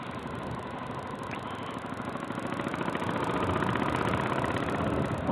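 A Honda Shadow motorcycle idles steadily nearby on a snowy first-snowfall day, its even, low engine rumble holding throughout and swelling slightly louder toward the end, with no talking.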